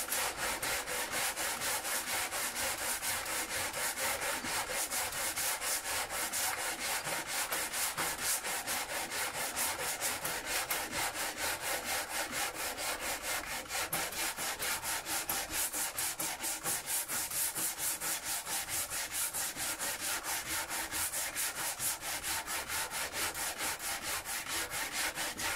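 A wooden guitar fretboard is sanded by hand, giving rapid, evenly repeated rasping strokes that continue steadily and closely throughout, with no voices.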